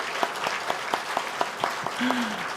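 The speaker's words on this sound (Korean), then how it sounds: "우리 뜨겁게 박수로 한번 축복하겠습니다." A church congregation applauds with sharp, evenly spaced claps standing out, and a brief voice rises near the end.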